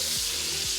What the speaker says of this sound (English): to this bacon fat, we're gonna go ahead and add our vegetables